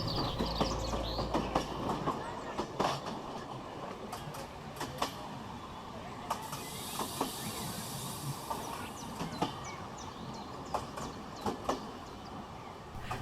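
A train runs steadily with a continuous rumble and hiss, marked by repeated clickety-clack wheel beats at an even rhythm. The sound is moderately loud, there is no talk, and it serves as background for a spoken story.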